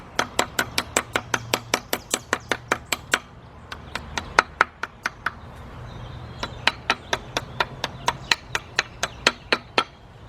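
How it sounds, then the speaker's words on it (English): A small brass hammer taps a timing gear on a 2003 Nissan Maxima 3.5 engine in quick, even strikes, one run of about twenty blows, a short pause, then another steady series of taps. "Okay, the little brass hammer."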